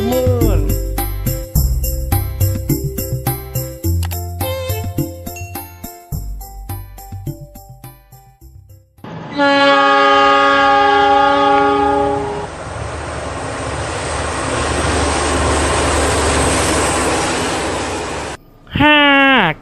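A train rumbles along the tracks with clattering wheels, then sounds a long, loud horn that holds for several seconds before the noise cuts off.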